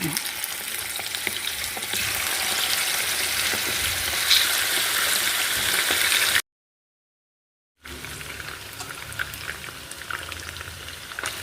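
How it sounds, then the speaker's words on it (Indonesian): Chicken pieces fry in hot oil with a loud, steady, close sizzle that cuts out briefly and then resumes. "Kita goreng ya ayamnya ya."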